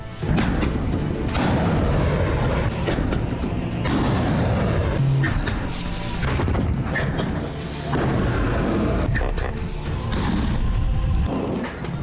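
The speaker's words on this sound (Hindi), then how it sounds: "जैसलमेर के आसमान में एक के बाद एक ब्लास्ट होने लगे" Heavy booms and thuds go off one after another in the sky over Jaisalmer as air defences shoot down drones, loud and rumbling, like a barrage of explosions echoing over a wide area.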